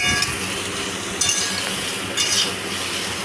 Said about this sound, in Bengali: এবার ডাটার মধ্যে লবণ হলুদ দিয়ে ভালো করে নাড়িয়ে চাড়িয়ে নিচ্ছি ডাটাগুলোকে ভালো করে ভেজে নেব